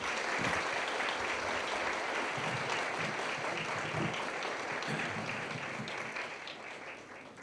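Sustained applause fills a hall at a teacher appreciation ceremony, a dense, even roar of many hands clapping that holds steady throughout and tapers slightly near the end.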